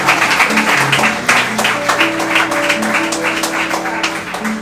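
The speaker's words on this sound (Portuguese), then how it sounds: "Uma salva de palmas ao Senhor." A church congregation claps in praise after a prayer, a dense, loud round of applause over sustained keyboard or organ tones that carry on underneath.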